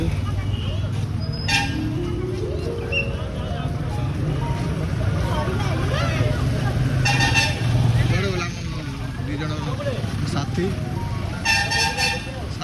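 Busy road traffic rumbles nearby while car horns toot in short bursts several times; voices can be heard under the traffic.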